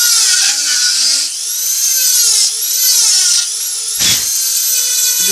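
A Dremel rotary tool carves deep into the wood of a wood spirit face, its high, loud whine rising and dipping continuously as it bites into the wood, with a brief low thump partway through.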